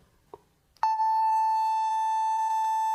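A steady electronic tone plays loudly from a mobile phone speaker, aimed at a lighter flame to blow it out; a soft tap precedes a sharp onset, then the pure tone holds unbroken to the end.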